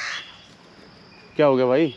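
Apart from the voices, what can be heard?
crow cawing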